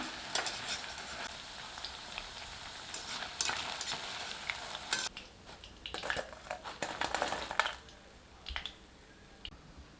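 Egg chilli 65 pieces fry in hot oil and are turned over, giving a crackling sizzle with sharp clicks and scrapes from a utensil in irregular bursts, close by, fading to a quieter bubbling near the end.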